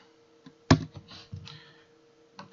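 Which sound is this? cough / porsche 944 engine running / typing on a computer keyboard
typing on a computer keyboard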